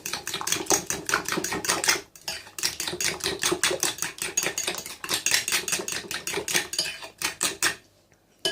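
Spices and oregano being whisked for a cheese and egg omelette, a rapid steady clatter of utensil against bowl in quick repeated strokes, close and fairly loud, with two brief pauses.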